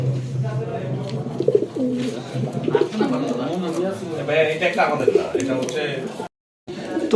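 Racing pigeons coo repeatedly at a pigeon club tournament in Narinda, the soft burbling calls running under someone speaking Bengali almost throughout.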